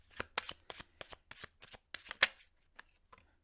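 Tarot cards being shuffled in a quick run of crisp riffling bursts, about a dozen sharp rustles with short gaps, close and clear with no talking.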